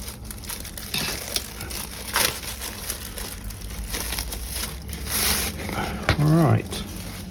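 Scissors cut open the crinkly packaging around a set of posters, with rustling, crunching snips close by and a person's voice briefly over the handling noise.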